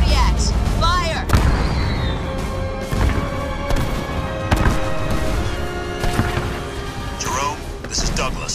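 Kodiak artillery fires during a Halo Wars 2 cutscene. Heavy booms and blasts come in a dense battle din, loud and close, while voices talk over it.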